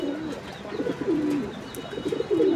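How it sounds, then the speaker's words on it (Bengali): A pair of Krishna pigeons coo softly and close by, a few rolling, wavering coos repeated over a quiet background, with no talking. "আর এখানে আছে এক জোড়া কৃষ্ণ কবুতর।"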